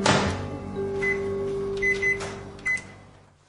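A microwave oven hums steadily while heating a cup of water in a home kitchen, with a few short high beeps scattered through the run and a soft clunk at the start, heard close and fairly quiet.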